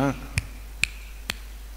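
Three sharp, isolated finger snaps spaced evenly about half a second apart, close and crisp against a quiet background, following a brief voice at the start.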